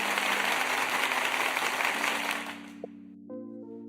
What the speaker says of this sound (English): Round of applause for the quack.